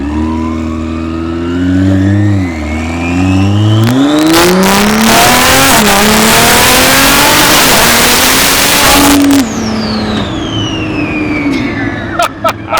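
A Dodge Viper with a swapped Hurricane engine revs hard, the engine pitch climbing through gears into a loud roaring burst before easing off, with voices talking over it.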